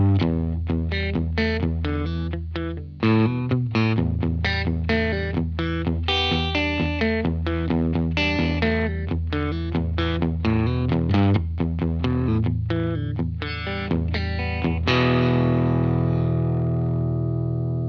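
Electric guitar through a Lytt Effects Rosie drive pedal plays a busy, loud overdriven riff of quick picked notes and chords, ending on a sustained ringing chord that slowly decays.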